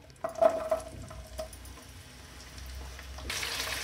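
Onions slide into hot oil seasoned with a pinch of asafoetida, a soft sizzle rising after a clink of the pan and building to a steady, louder fry near the end.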